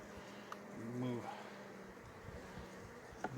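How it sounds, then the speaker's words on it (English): A soft, wavering buzz of bees drifting past a hive during an inspection, close up, over a steady outdoor hum with a couple of small clicks. "We got some inquisitive bees here."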